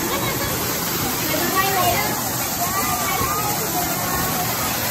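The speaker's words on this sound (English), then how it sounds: "Alright, so there's a waterfall." A waterfall at an outdoor Christmas lights display gives a steady rushing splash, while people talk in the background.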